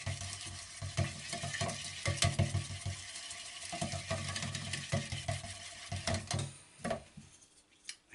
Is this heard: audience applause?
no